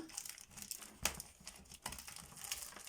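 Packaging of a paint-by-number kit is opened, with quiet crinkling and rustling of wrapping and a few soft sharper crackles, close and alone.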